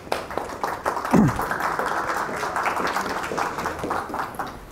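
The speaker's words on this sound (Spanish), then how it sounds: "Aplausos." Moderate applause from a university lecture audience after a talk on cosmology and gravitational waves, a steady patter of clapping lasting several seconds with a brief voice-like sound early on.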